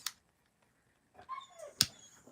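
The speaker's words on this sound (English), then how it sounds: "My dog's gonna cry for a minute." A dog whimpers and cries in short, high rising whines that start after a quiet stretch, sounding fairly close in a room, with a sharp click near the end.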